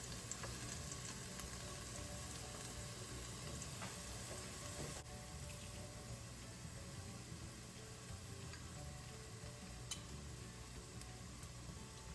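Onion sautéing with crushed garlic in oil for steamed callaloo, a steady, dense sizzle with faint ticking crackles running unbroken and fairly close throughout.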